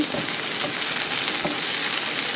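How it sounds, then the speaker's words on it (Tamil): Peppers sauté in a pan for vegetable couscous, giving a loud, close, continuous sizzle with no pauses and no voices. "இப்போ பெப்பர் வதங்கிட்டது."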